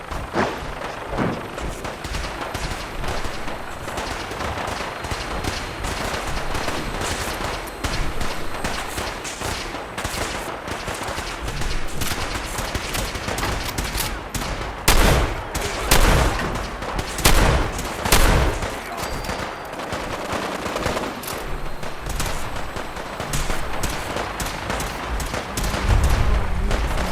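Sustained exchange of gunfire in Fallout 4 on PS5, a dense run of shots and impacts throughout, with several heavier, louder bursts in the middle stretch and toward the end, no speech.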